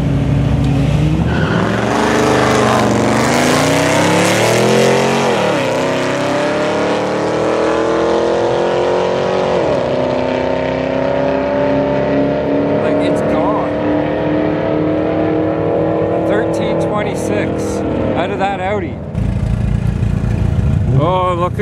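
An Audi with a turbocharged V6 races at a test-and-tune drag night, its engine roaring loud and close and rising through several gears with shifts between them. Crowd and track noise run underneath, with a quieter idle near the end.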